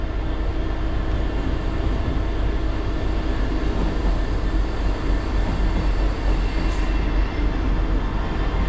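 A Class 158 diesel train, unit 158890, arrives at a station with a loud, continuous rumble of engine and wheels that stays steady and close throughout.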